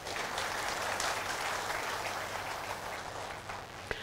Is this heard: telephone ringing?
no